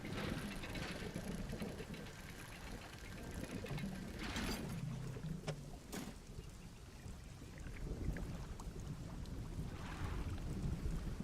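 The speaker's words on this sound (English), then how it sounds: "sounds like a storm" A stormy night at sea in the fishing game Dredge brings rolling thunder rumbles over steady wind and water noise, with a couple of sharper cracks partway through and no voices.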